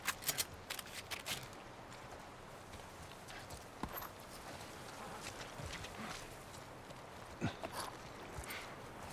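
Horses clip-clopping in The Last of Us, a quiet scatter of hoof knocks and shuffling movement, irregular and fairly close, with a cluster of steps at the start and sporadic ones after.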